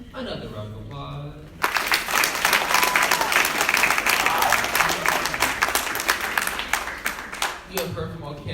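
A crowd bursts into steady applause for election candidates at a summer leadership academy, many hands clapping loudly for several seconds after a brief stretch of talk, then fading.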